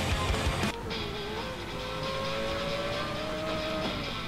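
A sports car's engine revs and accelerates in the 2012 racing game Need for Speed Most Wanted, a steady loud drone with a rising tone over about four seconds after a brief burst at the start.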